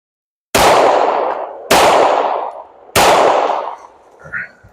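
Three sharp, loud gunshots from a PMM pistol fired outdoors in the woods after a misfire, each a sudden blast with a decaying ring, spaced about a second apart, followed by a faint clink.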